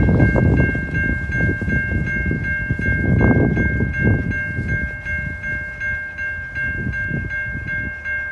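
A freight train with a switcher engine and three locomotives rolls past close by on street-running track, a loud continuous rumble under a steady high tonal whine, with no voices.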